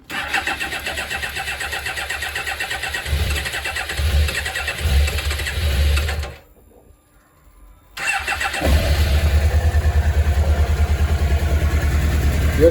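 A 1998 Suzuki GSX-R 750 SRAD motorcycle engine with freshly adjusted idle runs loudly, falls silent for a moment, then fires back up and settles into a strong, steady close-up idle.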